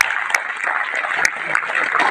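An audience at an interactive meeting with Super 30 founder Anand Kumar claps in a dense, steady burst that stays fairly loud throughout, with a few sharper claps standing out.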